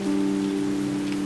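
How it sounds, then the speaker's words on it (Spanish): Heavy rain pours down in a steady dense hiss, with a constant low hum running beneath it and no voices. "porque está lloviendo mucho."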